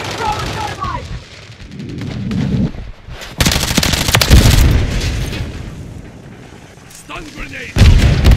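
Heavy gunfire and booming blasts from a combat video game, loud bursts coming in waves with short lulls between them, and voices talking over the shooting at times.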